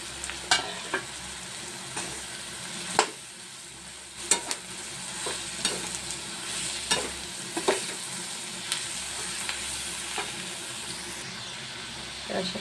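Sliced bananas for kela bhaji stirred in a hot frying pan, giving a steady sizzle broken by sharp scraping clicks of the spoon against the pan, close up with no talking.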